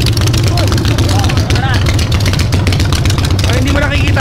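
Big bike motorcycle engines rumble loudly and continuously nearby, a dense low idle with occasional revs, while people talk faintly underneath.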